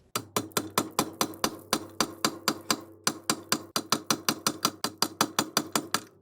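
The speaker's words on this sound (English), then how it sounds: "I'm going to chisel that away and collapse that portion of the carrier" Hammer blows on a chisel cutting away a seized outdrive bearing carrier in a boat's lower unit, sharp metallic strikes in a fast steady rhythm of about four per second, close and alone.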